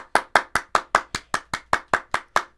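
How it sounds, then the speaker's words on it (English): About a dozen sharp, evenly spaced claps in a steady rhythm, loud and close with nothing else behind them, greeting a guest on an interview show. "Can we get a round of applause in the building?"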